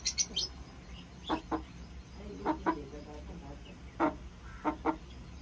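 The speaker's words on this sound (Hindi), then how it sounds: "ए मुर्गियां दे काम चेक करो" Backyard chickens cluck in short, separate bursts over a low steady hum, with a few higher chirps at the start.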